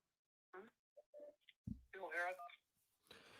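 Telephone dialing tones on a radio show's call-in line, short bursts of touch-tone beeps and a ring-like tone mixed with brief bits of talk, fairly quiet overall.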